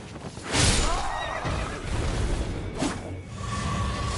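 A horse in the video game Elden Ring lets out a loud, shrill whinny as it is killed, rising and trailing off over a few seconds, with game whooshes and impact sounds around it.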